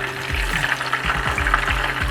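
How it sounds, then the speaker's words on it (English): Pieces of potato and pointed gourd deep frying in hot mustard oil over medium to high heat, giving a loud, steady bubbling sizzle with soft stirring movements and no talk. "I am going to deep fry it till it becomes golden brown in color, and I'm going to fry it on medium to high heat"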